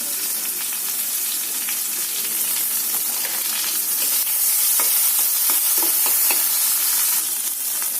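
Moringa leaves frying in hot oil: a loud, bright, continuous sizzle with crackles and the scrape of stirring, close up and without talk.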